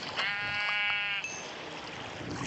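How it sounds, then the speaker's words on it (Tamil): A Minecraft sheep gives a single drawn-out, wavering bleat, clear and close, over a low background hiss. "ஒரு சீப் கிடச்சிருச்சு"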